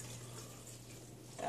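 Almond milk and water pour into a Blendtec 625 blender jar, a quiet, steady liquid trickle close by that swells briefly at the end, with no talking.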